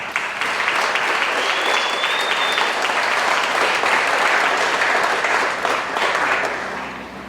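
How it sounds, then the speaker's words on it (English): Sustained applause from a pageant audience at a queen's coronation, steady and dense throughout, fading slightly at the end with no talk over it. "Let's give them all another round of applause."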